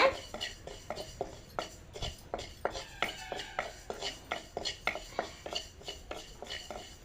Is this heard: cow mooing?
no